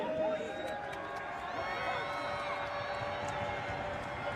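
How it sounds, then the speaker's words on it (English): Crowd noise fills a college basketball arena during a Montana State home game against Rocky Mountain College, a steady, loud roar of voices and cheers without pause. "Crowds have been consistent and loud all week long"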